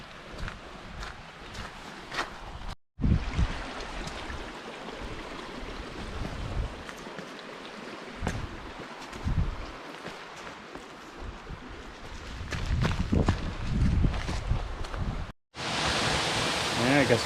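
A creek in the Wichita Mountains flows in a steady broadband rush with no clear pauses, and brief handling or footstep noises sit on top of it.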